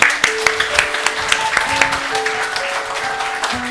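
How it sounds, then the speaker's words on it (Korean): A church congregation at a Sunday service applauds to welcome children starting school: a dense, steady wash of clapping from many hands, fairly loud and close, with a few sustained tones and faint voices mixed in. "큰 박수로 우리 환영합시다"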